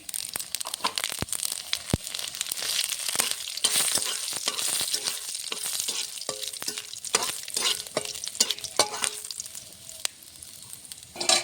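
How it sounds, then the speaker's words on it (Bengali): Dried red chillies, bay leaf and whole panch phoron crackle in hot oil for a radish and flat bean dal, dense popping and spattering with steady stirring scrapes throughout. "আমি ফোড়নে দেবো শুকনো লঙ্কা, তেজপাতা, দিয়ে দেবো কটা গোটা পাঁচফোড়ন"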